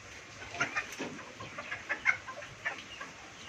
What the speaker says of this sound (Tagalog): isa sa mga napalabas ko na hen dito na talaga naman eh nag-itlog na